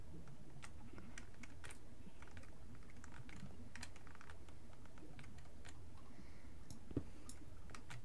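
Quiet clicking and tapping of a computer mouse and keyboard during Minecraft play with shift-clicking, in an irregular scattering of soft ticks and taps, close and faint, with no talking.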